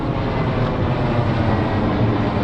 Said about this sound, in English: We'll wait till the plane goes over.